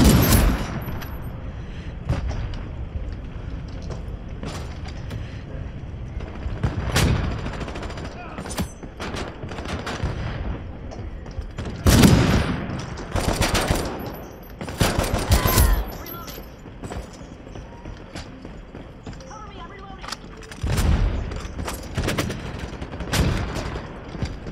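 Bursts of gunfire in the video game Ironsight crack out repeatedly, some rapid and sustained like automatic fire, over a low background hum with occasional faint voices.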